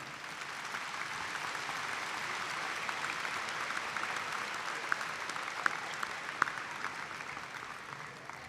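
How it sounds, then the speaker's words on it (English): Sustained applause fills a university commencement hall for doctoral candidates, a dense wash of clapping with a few sharper individual claps standing out near the end. "Please give each of our doctoral candidates a round of applause."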